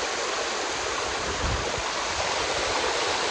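A stream on the Visapur Fort trek route from Lohagadwadi rushing steadily over rocks, a loud, even hiss that fills the whole stretch without pause.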